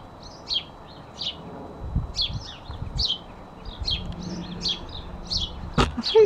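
Garden birds chirp in short bright bursts, repeated tweets spaced every half second or so, moderately close over soft rustling background.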